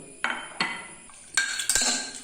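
Squid in a pressure cooker is stirred with a spoon, which makes several separate, distinct metal clinks and scrapes against the pot at an uneven pace, close and clear, with no voices.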